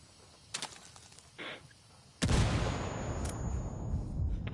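In a video game, a frag grenade goes off with a sudden loud blast after a few quiet clicks and short rustles, then leaves a dense, rumbling roar that carries on to the end.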